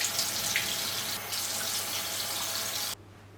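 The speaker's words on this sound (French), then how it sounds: "Et je rince à nouveau." Tap water streams steadily into a bathroom sink while a face is rinsed, a continuous close hiss that stops abruptly near the end, with no voices.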